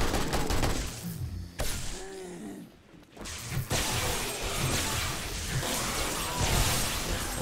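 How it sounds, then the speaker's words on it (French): Gunfire in 7 Days to Die during a blood moon horde: bursts of rapid shots and crackling impacts, with a brief lull midway before the firing resumes and continues densely. "On recharge et on tire."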